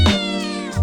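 A black cat on a street in Malta lets out one loud, close, drawn-out meow.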